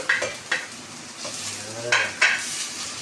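Garlic sautéing in a pan for Bikol Express, with soft sizzling broken by a few sharp scrapes of a utensil stirring against the pan, close and fairly quiet, no talking.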